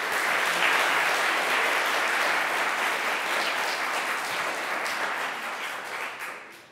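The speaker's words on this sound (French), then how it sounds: "je pense qu'on peut les applaudir chaleureusement" Warm audience applause fills a town hall at the finale of a speaking competition, dense steady clapping sustained throughout before thinning slightly at the end.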